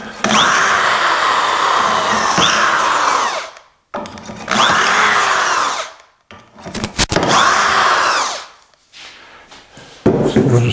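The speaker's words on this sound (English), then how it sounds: "I'm just going to drill this first one" A power drill boring dowel holes for an angled wooden machinery stand, heard in three loud sustained bursts separated by short pauses, with quieter handling sounds at the end.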